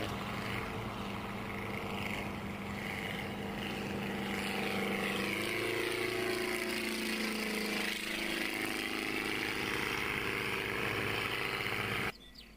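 A steady, throaty propeller aircraft engine drone runs throughout at close range, its pitch shifting slightly midway before cutting off abruptly at the end.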